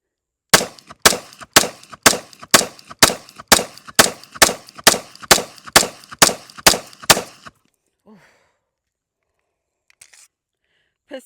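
A Sig P226 pistol chambered in 9mm fires about fifteen loud, sharp shots in a steady rapid rhythm, each crack ringing briefly. The string stops abruptly and leaves near silence with a few faint sounds.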